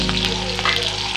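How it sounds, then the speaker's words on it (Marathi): Cumin seeds and green chillies dropped into hot oil, a loud close burst of sizzling and spitting crackles, steady and unbroken for a brief moment. "आता आपण त्याच्यात जिरे घेतलेले ते टाकूया आणि हिरवी मिरची घेतलेली होती"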